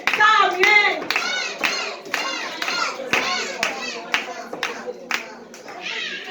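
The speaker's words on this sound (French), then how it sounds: "On applaudit Samuel." Guests at a school class celebration clap in a loose rhythm of separate sharp claps, heard under loud, continuous children's voices that dominate the scene.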